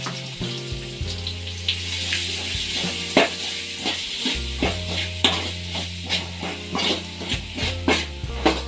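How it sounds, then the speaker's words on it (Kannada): Chopped onion and cumin frying in hot oil for a drumstick fry, a constant sizzle broken by rhythmic spatula scrapes and clinks on the pan, close and loud, with nobody talking. "ಅದನ್ನು ಹಾಕಿ ಚೆನ್ನಾಗಿ ಫ್ರೈ ಮಾಡ್ಕೋಬೇಕು"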